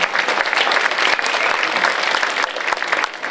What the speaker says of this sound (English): How about a big round of applause for our GM Christian, Adrian, Daphne